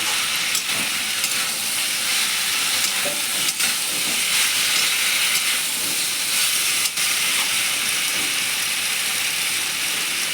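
Spiced vegetables and mourala fish sizzling in hot oil, a dense, bright hissing fry that runs continuously with a few faint clicks, close up and without voices.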